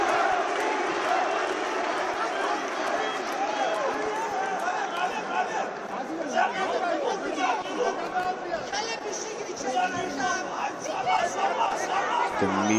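A crowd at a GFC x Brave mixed martial arts event keeps up loud, continuous chatter and shouting throughout. Commentators talk over the noise.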